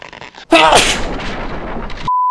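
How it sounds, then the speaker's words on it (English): A short voiced intake of breath, then one loud, explosive sneeze that fades into a rough noisy tail, ending in a steady high beep tone. "But I have to sneeze."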